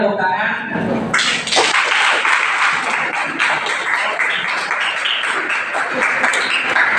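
Students at a school seminar clap together in a dense, steady burst of applause that starts suddenly and carries on for several seconds, close and loud, with some voices mixed in.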